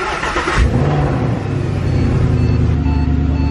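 A Lamborghini Aventador sports car starts up with a sharp loud bark, then its engine settles into a deep, rumbling idle that rises again toward the end, close and powerful.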